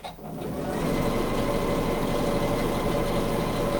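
A sewing machine runs steadily around the top of a quilted shopper tote, a continuous close mechanical whir with no talk over it.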